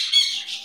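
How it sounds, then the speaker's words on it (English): A pet bird gives a shrill, close squawk that stretches into a second harsh cry, loud and with no talk over it. "What an amazing bird."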